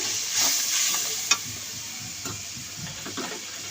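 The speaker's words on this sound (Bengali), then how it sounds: "জিরা ধনিয়ার গুঁড়ো দিয়ে দিব জল মশলাটা আমি কষিয়ে নিব এখন" Spice paste of cumin and coriander powder with water sautéing in a pan, a continuous close sizzle and hiss with a few soft stirring knocks, no talking.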